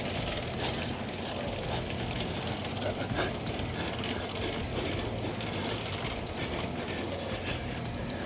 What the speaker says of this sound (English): let me put on our little Agile crank that we make, and you'll see it can be a little bit easier for cranking up and down